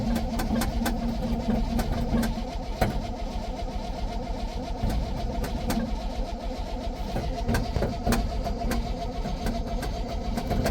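A 1966 GMC pickup truck engine runs at a steady idle, a close, continuous mechanical drone with a faint regular ticking on top, with no talking.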